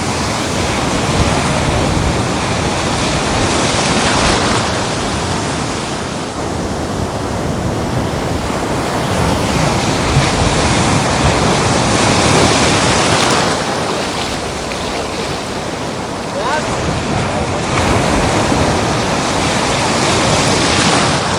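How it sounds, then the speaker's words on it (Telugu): Heavy sea waves crash and surge at Antarvedi during Cyclone Fengal, a loud continuous roar swelling and easing in rough cycles, with wind buffeting the microphone. "సముద్రం వచ్చి ఇతర స్థాయి కంటే ఎక్కువ ఎత్తుకి అయితే కేటాలు ఎగురుతున్నాయి"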